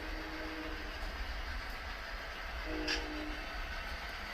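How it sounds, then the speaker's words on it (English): A freight train rumbles past through a tunnel near Gallitzin, Pennsylvania, a steady, heavy rolling roar that fills the scene, with a brief horn-like tone rising near the end. "Speaking of trains, there's one coming by the tunnel in now."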